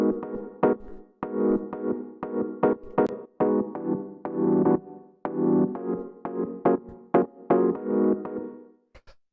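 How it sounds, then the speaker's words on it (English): A house music chord progression of major and minor ninth chords, played as short rhythmic stabs in a steady groove, loud and alone with no talking. "The first sound that we have here is the chord progression"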